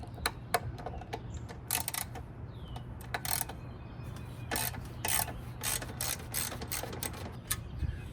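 A ratchet works 13 millimeter bolts loose on a Jeep Wrangler JK during a roof rack install, making quick clicking bursts spread across the clip at close range.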